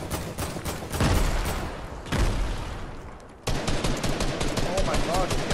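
Dense, loud automatic gunfire in a crowded Fortnite fight, with rapid bursts continuing almost nonstop and a brief drop before another intense volley.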